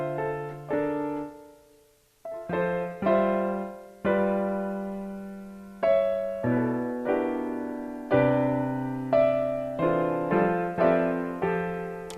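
Piano chords played haltingly, with pauses, restarts and uneven stabs between sustained chords, a clumsy stumbling progression heard alone and close.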